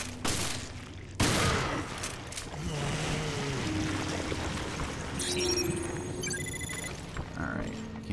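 Shotgun blasts in Resident Evil Revelations ring out amid a dense, noisy game soundscape with sharp bursts near the start, then rumbling ambience and chiming interface tones, while a voice talks over the action.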